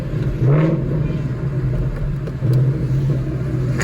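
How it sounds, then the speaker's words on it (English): A Ford Mustang engine revs at a Cruisin State Street car show in Fremont, Ohio, a close rumbling rev that swells briefly and settles into a steady idle, with crowd background. "Now that was another Mustang."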